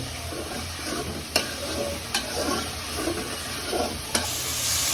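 Chicken liver and gizzard masala fries in oil with a constant close sizzle, while a spoon stirs it with a few sharp scrapes against the pan, and nobody speaks.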